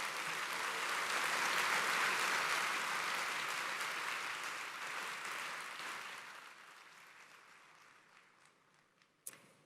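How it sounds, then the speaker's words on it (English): An audience at an IOC session in Mumbai breaks into applause, a dense wash of clapping that swells early, then slowly thins and fades over several seconds. "Let's give them a round of applause."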